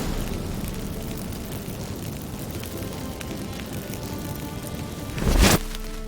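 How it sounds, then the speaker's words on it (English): Magic fireworks go off in the video game The Witcher 3 as a short, bright crackling burst flares near the end over a steady rumbling, rain-like background bed. "Get ready for some magic fireworks."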